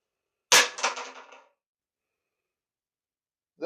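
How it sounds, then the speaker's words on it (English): A weapon shatters in Zelda: Breath of the Wild, a single sharp breaking crash with a scattering, fading tail lasting about a second, standing alone in silence before another sound starts at the very end. "Your weapon breaks, the sword breaks, or whatever it is you have, and you can't use it anymore."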